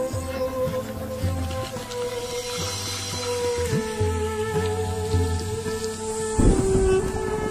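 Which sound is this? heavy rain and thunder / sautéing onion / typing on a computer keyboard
heavy rain and thunder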